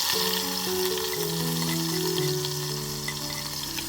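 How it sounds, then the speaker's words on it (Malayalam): Crushed shallots and green chilies fry in hot oil with fenugreek seeds in a pan for a fish curry, giving a steady close sizzle, while low sustained tones hum underneath. "ഇനി നമുക്കിതിലേക്ക് ചെറിയ ഉള്ളി ചതച്ചതും പച്ചമുളകും ഇടാം."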